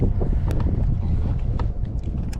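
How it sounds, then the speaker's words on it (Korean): Strong wind roars steadily across a microphone out at sea on a small fishing boat off Sambong beach, a loud continuous low rumble with buffeting and faint splashes throughout. "바람이 세다"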